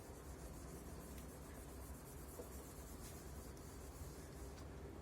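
Faint soft rubbing as writing is wiped off a board, a quiet continuous scratchy swish with no speech.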